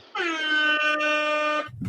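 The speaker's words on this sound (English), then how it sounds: "That deserves an air horn." A single loud, sustained air horn sound effect blast lasting about a second and a half, bright and brassy, ending sharply.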